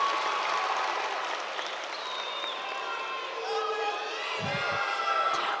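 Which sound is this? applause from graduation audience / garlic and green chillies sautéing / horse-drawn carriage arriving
applause from graduation audience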